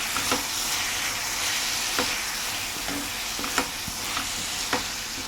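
Tomatoes are frying in a hot pan, giving a steady close sizzle broken by scattered clinks and scrapes of a spoon stirring against the metal.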